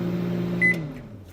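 Microwave oven with a Peeps marshmallow inside, humming steadily up close, then a single high beep as the hum winds down and stops.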